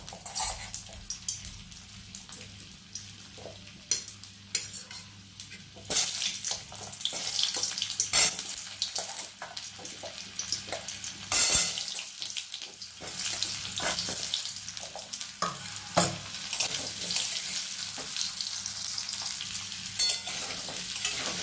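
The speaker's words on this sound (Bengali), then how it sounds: "ভেজে নেব, কড়াইতে দিয়ে দিলাম আগে।" Turmeric-coated potato pieces frying in a kadai (wok), a continuous close sizzle with intermittent stirring scrapes and clinks, loudest in the second half, with no talking.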